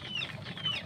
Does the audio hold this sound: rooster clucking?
yes